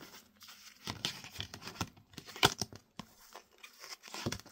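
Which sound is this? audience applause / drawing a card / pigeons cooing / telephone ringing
drawing a card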